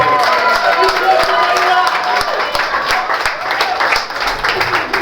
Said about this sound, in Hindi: एक बार ताली वनीता के लिए